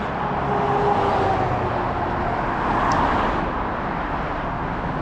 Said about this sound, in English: apologize for all the traffic noise